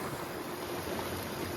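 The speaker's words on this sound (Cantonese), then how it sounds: "你部船自己都開唔到咁快。" A tugboat moving across a lake near Hukou town, giving a steady, close rush of water and engine noise that stays even throughout with no talk.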